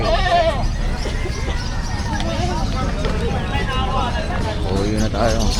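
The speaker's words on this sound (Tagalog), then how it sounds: "kambing, ang laki." A goat bleats at a crowded pet market, wavering cries rising above a busy hubbub of people talking, with further bleats near the start and end.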